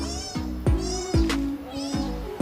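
A cat meows repeatedly and close by, five or six drawn-out cries at a steady pace, with no other sound around them.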